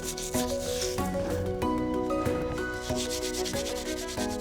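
Steady scrubbing of a cast iron pan just cleaned by electrolysis, a continuous rough rubbing texture with repeated strokes, close and loud, with faint background music and no talk.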